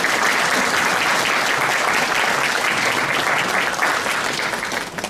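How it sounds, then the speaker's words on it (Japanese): At a florists' regional selection competition, a hall audience claps for the finalists in loud, sustained applause that runs unbroken for several seconds and eases slightly at the end. "厳しい予選を勝ち抜いたフローリストの皆さんに改めて大きな拍手をお送りください。"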